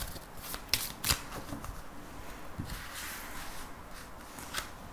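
Tarot cards shuffled for a reading, quick papery riffles and flicks in a few short bursts followed by softer sliding and handling, close and quiet.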